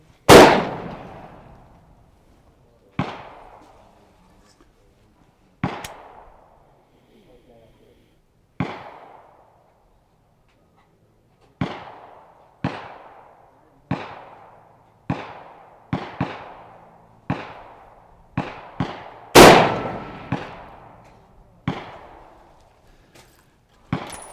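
Scoped rifle being sighted in at an outdoor shooting range, firing about sixteen sharp, loud shots at irregular intervals, each with a short echoing decay, two of them noticeably louder.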